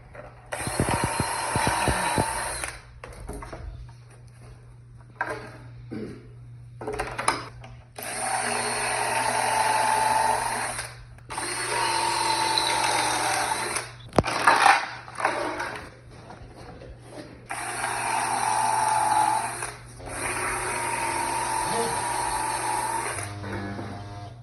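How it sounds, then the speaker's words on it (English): A drill bores pocket holes into wood for a changing table in several loud whirring bursts of a few seconds each, separated by short pauses and faint clicks, with a low steady hum underneath. "let's put 2 pocket holes on each of the 2 long sides of both of these"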